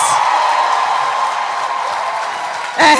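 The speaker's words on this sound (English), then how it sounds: "give Pastor Kojo and the team a resounding round of applause" Church audience applauding Pastor Kojo and his team at an entrepreneurs' summit, a steady dense wash of clapping that holds evenly for about three seconds before a brief louder burst at the end.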